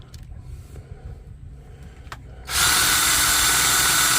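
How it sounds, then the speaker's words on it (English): Faint background knocks give way to a power drill suddenly starting up, running loud and steady at high speed until the end. "Let me stop this drill for a minute and look at this."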